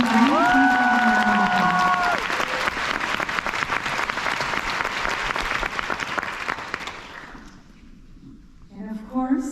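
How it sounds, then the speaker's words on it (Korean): An audience at a TIFF cast Q&A for Concrete Utopia applauds the actors, with full sustained clapping and a few cheers that fade after several seconds as a voice returns near the end. "배우분들에게 박수 한번 주세요"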